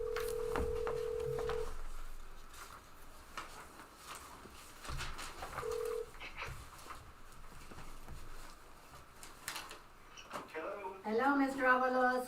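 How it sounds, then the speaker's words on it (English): Telephone being dialed to place a call during a school district board meeting, with a series of short tones and clicks under background room noise and some voices, ending with a brief burst of ringing tones. "I'm going to get Mr. Avalos on the phone."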